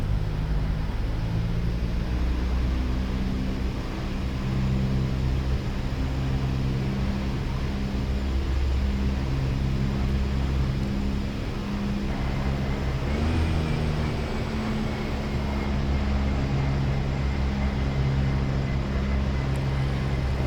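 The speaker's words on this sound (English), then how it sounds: "Alright, you can touch down now. Alright, hit the reversers." Video game airliner touching down and running its thrust reversers: a continuous heavy engine drone with low tonal hum, a brief pitch shift partway through, steady and loud throughout without speech.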